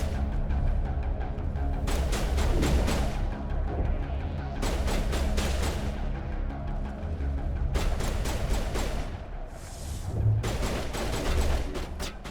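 Gunfire in the video game Mass Effect Legendary Edition comes in dense bursts of rapid shots, several volleys in a row with short pauses between them, loud and close, and no one speaks over it.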